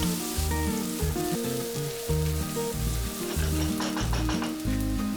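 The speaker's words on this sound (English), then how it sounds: "fry the onion until it is nice and soft" Chopped onions fry in oil after cumin seeds for a chicken curry with curry leaves, giving a steady close sizzle beneath background music.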